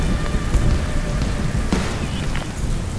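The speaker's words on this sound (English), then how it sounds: "Yep, the rain has come." Steady rain pours down over a plum orchard as a dense, continuous hiss, close and fairly loud throughout.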